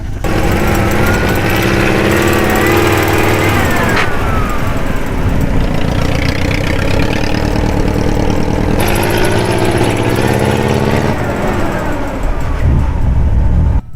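An air-cooled V4 engine running on LPG in an off-road vehicle: a loud, steady mid-pitched drone with harmonic hum, holding constant for the whole stretch with slight changes in tone and no talk.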